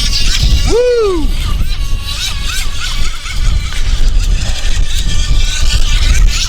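A SKYTECH H100 RC racing boat runs at full throttle over choppy water, its high motor whine loud and steady throughout, with a quick rising-and-falling pitch sweep early on and constant water and wind noise beneath.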